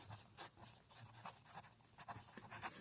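Pen scratching on paper while a maths expression is written out for a Class 9 polynomials lesson, with quiet, continuous rubbing strokes and small taps over a low room hum, and no talking.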